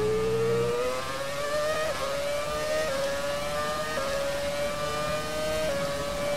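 A McLaren 2008 Formula 1 car in the F1 2017 racing game roars continuously at high revs, its engine pitch climbing in steps with each gear change, loud and close throughout.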